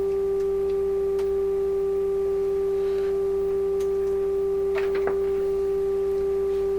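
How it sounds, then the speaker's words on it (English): A steady sine wave test tone from a Nordmende 3004C receiver holds a single constant pitch with a fainter harmonic, running unbroken throughout with a few faint clicks. "Sine wave looks beautiful on the scope."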